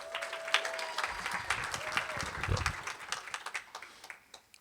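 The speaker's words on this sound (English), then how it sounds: "So give yourselves a round of applause again here." Graduation ceremony crowd applauding the class of 2024, a moderate, somewhat distant wash of clapping with a few louder claps and voices mixed in, fading toward the end.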